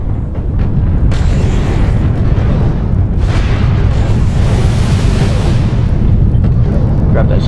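Artillery strike explosions in the MechWarrior Online game rumble as a loud, continuous roar of blasts and booming that swells midway and carries on to the end.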